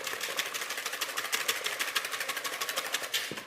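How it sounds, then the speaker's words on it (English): A whisk beats egg yolks and sugar together in a bowl for crème brûlée, producing a fast, steady rhythmic clatter of repeated taps that stays close and fairly loud throughout. "whisk it all together. You're only whisking to combine the sugar and the yolks"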